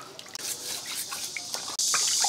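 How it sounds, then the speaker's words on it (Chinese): Water trickles and splashes over raw pork in a home kitchen while making Dongpo pork, a steady close rinsing sound that grows louder and brighter toward the end. "把肉洗一下。"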